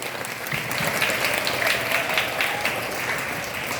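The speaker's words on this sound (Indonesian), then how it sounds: "Tepuk tangannya mana?" School audience at a literacy assembly clapping in a sustained, even round of applause, loud and continuous from many hands, with no talk over it.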